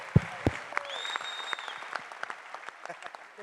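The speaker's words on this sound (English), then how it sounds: "Little round of applause for our champ here." Scattered applause from an auditorium audience at a UFC fan Q&A, fairly light and uneven, with a few sharper claps standing out early and the clapping thinning toward the end.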